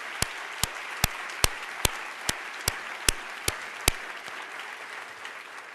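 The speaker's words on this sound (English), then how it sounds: "It deserves applause." Audience applause at a community savings program event, a wash of clapping with a handful of sharp, louder individual claps standing out near the front before thinning out toward the end.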